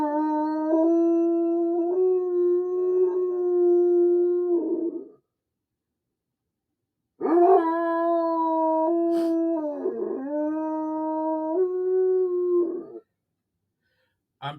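A pet dog howls in two long, drawn-out wails with a short silent gap between them, near and fairly loud, its pitch wavering and dipping mid-howl, with no talking.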